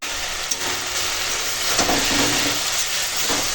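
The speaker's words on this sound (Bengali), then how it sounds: "আর দেব হলুদ গুঁড়ো আর দেব স্বাদ মতো লবণ দিয়ে এখন শাকটাকে রান্না করব" Greens cooking in a pan with turmeric and salt give off a steady, fairly loud hiss and sizzle that runs unbroken from start to finish. A few faint clinks sit within it and no one speaks.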